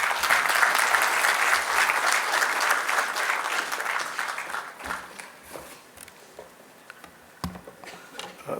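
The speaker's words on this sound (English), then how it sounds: "May we please have a round of applause." Sustained applause from a large audience in an auditorium at a closing session, steady and dense at first, then thinning into scattered claps before fading out.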